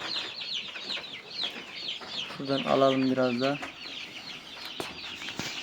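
Chicks peep in a rapid, high chorus while being fed live mealworms, and a hen or rooster clucks loudly for a moment in the middle as someone speaks briefly.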